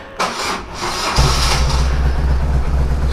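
A new motorcycle engine cranks and fires at about one second, then settles into a steady, loud, rumbling idle close by for the rest of the clip, with no talking.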